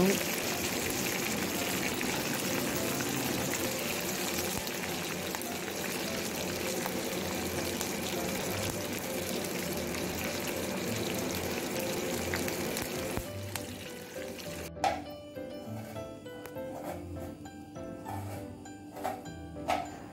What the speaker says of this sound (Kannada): ಕಬಾಬ್ ಫ್ರೈ ಆಗ್ತಾ ಬಂತು.